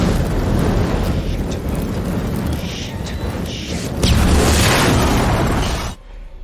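A massive explosion in Until Dawn, a loud sustained roaring blast with rumbling debris that swells midway and cuts off abruptly near the end.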